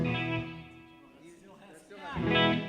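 An electric guitar is played clean through an amplifier with no effects pedals, during a band's question-and-answer session with kids. A loud chord rings and slowly fades, then a second chord is struck near the end.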